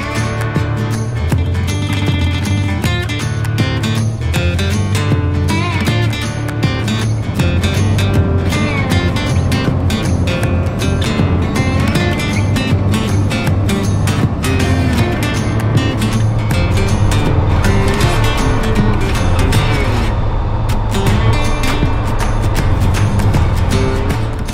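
A 2021 Polaris Slingshot SL three-wheeler with a ProStar four-cylinder engine is ridden, its engine droning loud and steady under wind rush and road noise with a tonal hum throughout.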